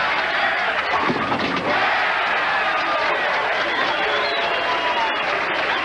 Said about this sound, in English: Just listen to the crowd if this one strikes.